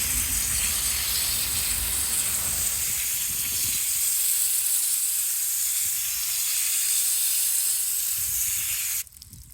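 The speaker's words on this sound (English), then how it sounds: "it never hurts to water it a second time." Water hisses steadily from a hose onto a newly planted passion vine or pepper plant in farm soil, a close and even rush that cuts off abruptly near the end.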